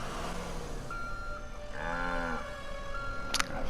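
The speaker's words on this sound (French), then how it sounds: "Fameuse scène de la vache." A cow moos in a LEGO Jurassic World video game, one drawn-out low call in the middle over a constant ambient game hum, ending with a brief sharp noise.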